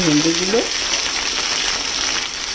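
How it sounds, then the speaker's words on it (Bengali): Okra frying in hot white oil in a kadai sizzles in a steady, loud crackle throughout, with a brief voice speaking at the start over the frying. "ভেন্ডিগুলো খোলা অবস্থাতেই কিন্তু একটু ভাজা করে নেব"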